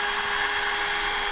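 A small power drill boring into a dried gourd for a flower show craft, a steady high-pitched whine held without a break, close and alone.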